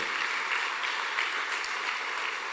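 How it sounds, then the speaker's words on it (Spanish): Steady, dense applause from a church congregation at a live Mass in a parish church in Asunción fills the space evenly and continuously, loud and close, with no voices rising above it. "fuerte los aplausos"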